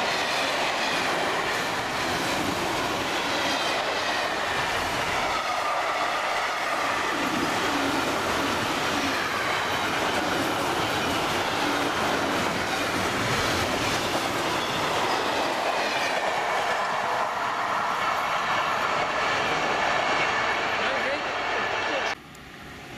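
A freight train hauled by a TX Logistics class 189 electric locomotive in dispo livery rumbles past in Bavaria, wheels clattering and squealing steadily at close range for a long stretch before cutting off abruptly.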